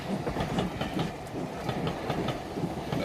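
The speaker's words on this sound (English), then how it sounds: "A most civilized form of travel, don't you think, sir? The train." A train travels on rails with a steady rumble and faint rhythmic clacking, heard from inside a carriage with no talk.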